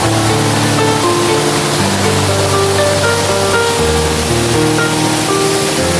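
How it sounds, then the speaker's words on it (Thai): Loud, steady rushing of the Tat waterfall, a continuous roar of falling water close by, with no voices. "ธรรมชาติน้ำไหลธรรมชาติตกตาด"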